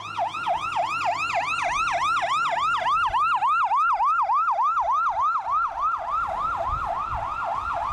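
Wailing fire truck siren at the Sterling Heights Fire Department, a loud, steady up-and-down yelp cycling rapidly and continuously, close by with a low engine rumble beneath.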